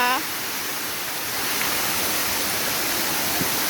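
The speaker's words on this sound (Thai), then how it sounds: "อันนี้เป็นน้ำตกจำลอง" Constant splashing flow of falling water from an artificial waterfall, steady and fairly loud, with a faint voice at the very start.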